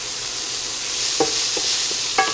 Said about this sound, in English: Okay, I'm going to saute these down